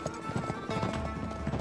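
Horse hooves gallop in Uncharted 3, a steady rapid clip-clop close up and loud, running continuously with game noise behind.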